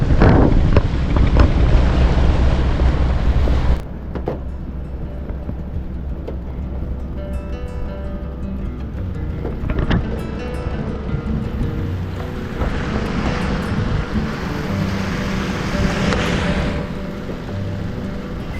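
A launch boat cruises across a lake among green hills near Rangamati, its engine droning steadily beneath strong wind buffeting the microphone, with water rushing along the hull and no talk.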